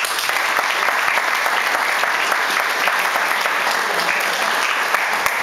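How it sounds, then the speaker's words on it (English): Audience at a women's awards ceremony applauds past honorees with steady, full clapping that carries evenly from start to finish, no voices over it. "we'd like to give them a round of applause for being here today as well"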